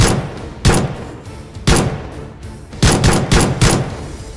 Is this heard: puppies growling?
no